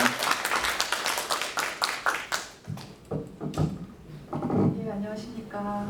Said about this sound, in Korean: 큰 박수로 맞춰주시면